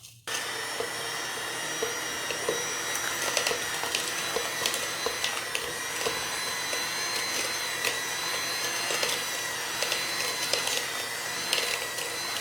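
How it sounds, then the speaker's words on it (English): An electric mixer whirs steadily as it creams butter and sugar for lactation cookies, a continuous loud motor drone with faint ticking of the beaters against the bowl, no one speaking. "we're going to use a mixer to cream our butter and sugar together until it's light and fluffy"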